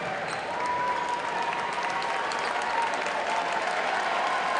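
Sustained applause from a crowd in a college arena during a men's basketball game, steady and dense throughout, with no clear speech over it.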